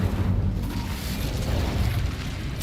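A fire spell cast in the Hogwarts Legacy game, a sustained roaring, rumbling whoosh of flame that holds steady throughout with a sharp burst at the very end.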